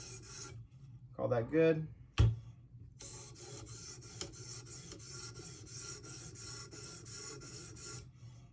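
A clamped Spyderco Para 3 knife with a 15V steel blade is sharpened in a run of even, rhythmic rasping strokes. Near the start come a short spoken phrase and a sharp knock.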